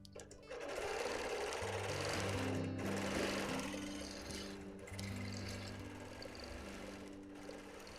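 A sewing machine with a stitch regulator free-motion quilts hexagon patchwork of 1930s feedsack fabric, a close, continuous buzzing hum that rises and eases in speed as it runs.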